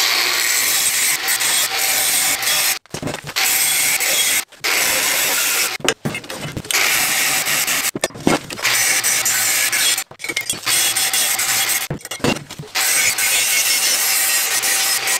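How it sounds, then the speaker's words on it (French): An angle grinder cuts a rounded corner into metal, giving loud, harsh broadband grinding in repeated bursts about two seconds long, separated by brief pauses as the cut is worked. "Et ben c'est parti pour la meuleuse."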